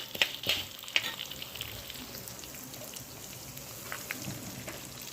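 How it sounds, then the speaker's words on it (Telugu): Mustard seeds, fenugreek and dried red chillies fry in hot oil as a tempering for a chutney, with a few sharp pops early on, then a soft steady crackle and sizzle close by. "ఆవాలు, మెంతులు, ఇవి బాగా ఫ్రై అవ్వాలండి మంచిగా."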